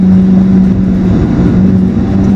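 A 2015 Alfa Romeo 4C sports car drives on a race track, its engine a loud, close, sustained drone with a steady pitch that wavers slightly mid-run.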